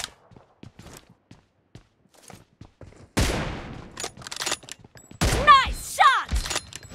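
Video game shooter match with bursts of rapid gunfire in an intense online round, from sparse single shots to dense volleys, with footsteps and gear clatter around them and speech under the action.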